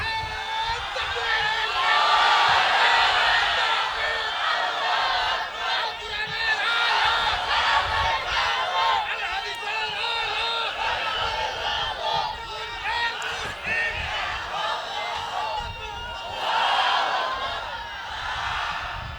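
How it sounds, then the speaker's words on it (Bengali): A large crowd at an Islamic sermon gathering shouts takbir together in loud, swelling waves of collective chanting, with surges and dips in volume over a continuous noisy bed. "আওয়াজটা ফারাক্কার ওই পাড়ে দেন, জোরে তাকবীর দেন"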